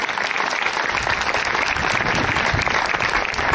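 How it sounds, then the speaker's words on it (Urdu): A church congregation in Khushpur claps for Jesus during an evangelist's message, giving a dense, loud burst of many hands applauding together, steady and close, with no talking over it. "یسوع کے لیے تالیاں بجائیں."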